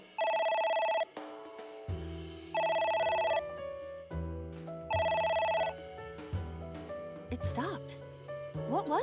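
A telephone rings repeatedly in the video game AI: The Somnium Files, with three bursts of electronic ringing separated by pauses and layered over game music while people talk.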